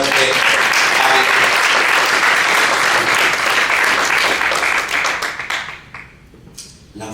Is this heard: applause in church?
yes